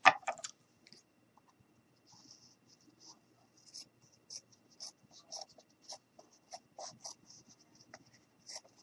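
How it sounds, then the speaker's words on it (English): Scissors cut fabric for homemade Santa pants in soft, close snips. A brief rustle comes first, then a run of small clicks and crisp cuts, with no voice. "I need to cut it here"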